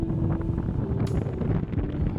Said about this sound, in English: it's so windy. My mic will be struggling a lot here.